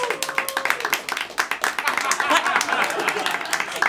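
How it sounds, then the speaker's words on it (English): A comedy battle audience claps in a dense, lively burst with cheers mixed in, steady and fairly loud from start to finish. "Clap if you think the winner of this battle is Talent Harris."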